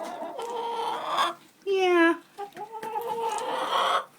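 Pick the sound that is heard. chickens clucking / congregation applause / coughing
chickens clucking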